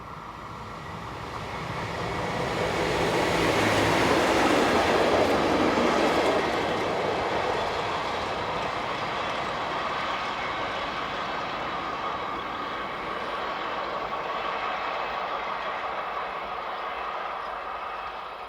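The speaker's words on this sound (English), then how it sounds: "(2070-013) was engaged in a local ballast drop and is seen here returning the empty wagon" Class 2070 diesel locomotive 2070-013 hauling an empty ballast wagon back to Wels, swelling to a loud pass around four seconds and then holding a steady rumble and rolling noise as it continues away.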